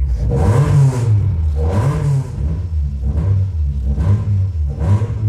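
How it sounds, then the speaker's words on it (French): Engine and gearbox of a Renault Clio 1.8 revved up repeatedly: four loud, close surges that climb and fall back to a steady rumbling idle, with no voices. "Boîte de vitesse. Entendre ce bruit fantastique."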